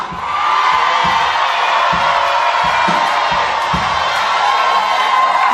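Worshippers at a church night vigil in Yopougon, Abidjan, raise loud, sustained shouts and cries of joy, a dense continuous roar of many voices with rhythmic thumps beneath.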